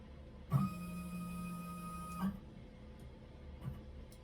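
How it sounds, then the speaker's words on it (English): A Longmill MK2 CNC machine homing, its stepper motors giving a steady tonal whine for about a second and a half with clunks at start and stop, followed by a faint shorter movement later. "I'm going to back it off a little bit and check homing and see if everything works"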